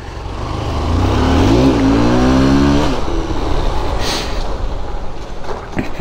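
A motorbike engine revs loudly and close, rising in pitch and then holding a steady roar for several seconds, set at a roadside during a festival-season outing in Nepal.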